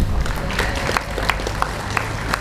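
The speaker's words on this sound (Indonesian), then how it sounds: "Ya, tepuk tangan untuk Hamizan." Short burst of audience applause for Hamizan at a tabligh akbar religious gathering, a scattered clapping crowd heard indoors at moderate loudness.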